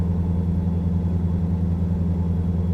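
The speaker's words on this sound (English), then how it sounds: "That engine sound is angry." A truck engine in American Truck Simulator runs with a deep, steady low rumble, holding an even idle-like drone throughout with no talking.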